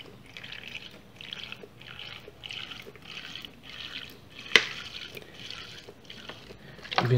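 Alcohol vinegar, about 50 ml, poured for a homemade insecticide, heard as a quiet series of rhythmic glugging bursts roughly twice a second, ending in a louder clunk.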